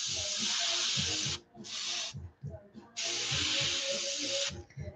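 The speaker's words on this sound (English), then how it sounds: "I'm not spraying much." An airbrush sprays heavily diluted paint on a shad glidebait lure at low air pressure, producing long, even hissing bursts that stop briefly between passes, close to the microphone, with faint background rumbles.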